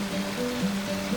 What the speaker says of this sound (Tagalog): naririnig ko na yung tubig ng waterfalls